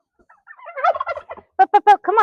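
A hen turkey gobbles in a run of throaty, rattling calls, first softer and broken, then three loud, close bursts followed by a longer warbling call, with no talk over it.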